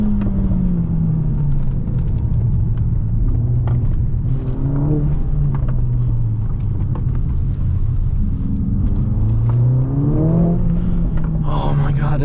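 A Mercedes-AMG A 45 S 4MATIC+ accelerates hard in second gear on Lake Como's hill roads, heard from inside the cabin: a loud, steady engine roar climbs in pitch, eases off and climbs again, with an excited voice briefly over it.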